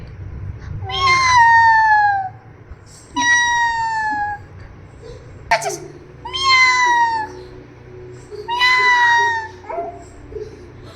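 A cat meows loudly four times at steady intervals, each cry drawn out and wavering, over a low background rumble.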